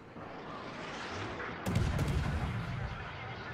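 Warship guns fire in a naval combat video game. A sudden heavy boom from the rear turrets breaks through the quieter ambient game noise, and a second blast follows close behind it, with rumbling lasting afterward.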